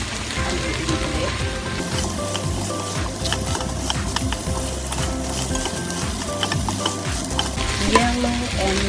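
Vegetables sizzle and crackle steadily in a hot pan for a shiot karaage-style yasai itame stir-fry, with a splash of water boiling underneath and the scrape of stirring, loud and close, no voices.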